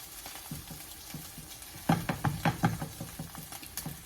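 Tuna cakes sizzle and spit in a hot frying pan on a stovetop, a steady close crackle with a few sharper pops and taps as they cook.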